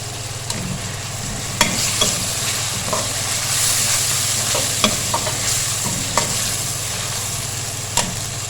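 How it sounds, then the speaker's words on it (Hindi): Tomato fries in a pan for chana pulao, a loud continuous sizzle under a low steady hum, with regular light clinks and scrapes as it is stirred. "इसको 2 मिनट फ्राई करेंगे ताकि इसका कच्चापन ख़त्म हो जाए।"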